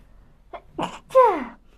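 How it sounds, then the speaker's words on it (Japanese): A single close, loud sneeze bursts out during a livestream, preceded by two quick inhaling catches of breath, then quiet. "配信するといつもくしゃみが出る"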